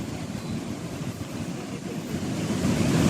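Fast-flowing river water at Huka Falls in New Zealand, a steady broad rushing roar with low rumble that swells slightly louder toward the end, with no voices over it.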